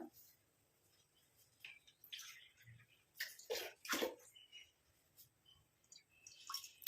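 Water splashes and pours in uneven bursts into an iron pan, loudest in the middle, against a quiet background with scattered light clinks.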